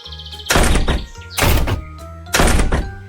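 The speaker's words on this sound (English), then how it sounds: "All 3 of them closed their doors with a bang." Three loud door bangs from the three little pigs shutting their doors against the wolf, each a sharp thunk with a ringing tail, evenly spaced about a second apart over a soft musical bed.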